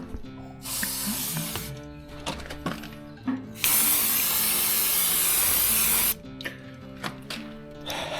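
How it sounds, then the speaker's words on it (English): Penetrating oil sprayed onto seized, jammed-solid bolts on a 1941 Chevy, a close aerosol hiss held for a few seconds between shorter bursts and small metallic clicks and handling noises. "I think we can get a bit liberal with the old penetrating oil, see if we can loosen up some of these bolts,"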